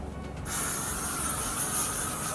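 A steady hairspray aerosol hiss starts abruptly after a brief pause and holds loud and continuous, close by, with no talking.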